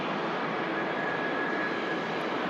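A TUI Dreamliner airliner taxiing at Manchester Airport, its jet engines giving a steady, broad roar at moderate distance with a faint whine running through it, unbroken and with no voices.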